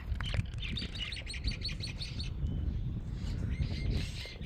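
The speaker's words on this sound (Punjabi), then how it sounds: "ਕਬੂਤਰਾਂ ਨੇ ਆਲਣੇ ਪਾਏ ਹੋਏ ਨੇ ਬੈਠੇ ਆਪਣੇ ਗੁੱਟਰ ਗੁੱਟਰ ਨੂੰ ਲੱਗਿਆ ਹੋਇਆ" Pigeons call and chirp repeatedly nearby from their nests, with soft cooing and a faint flutter of wings in an echoing 16th-century tomb.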